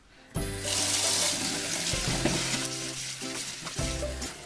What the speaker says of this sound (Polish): Płuczę go jeszcze raz w wodzie już bez octu.